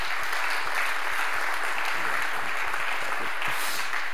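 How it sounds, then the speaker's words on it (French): An audience at a round-table conference applauds a speaker as he is called to the stage, a steady, dense wash of clapping that holds throughout. "vous allez être applaudi tout de suite"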